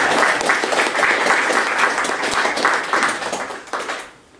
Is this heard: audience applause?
yes